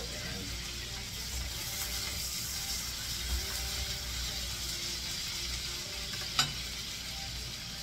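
Butter sizzling and frying in a pan on high heat with thyme and cilantro added, a steady, fairly loud hiss that runs the whole time, with a brief sharper crackle near the end.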